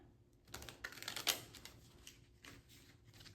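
Tarot cards being shuffled during a reading, a run of quick papery riffling and slapping bursts that peak in the middle and then taper into softer rustles, fairly close and quiet with no talking.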